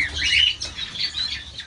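Small finches in a home aviary chirp and twitter continuously, several high tweets overlapping close by, with a brief soft flutter of wings partway through.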